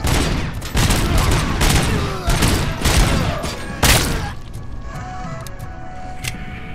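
Dense gunfire from RoboCop Rogue City, a rapid fusillade of overlapping shots and booms that loudly fills the first few seconds, then thins to scattered reports and ringing aftermath.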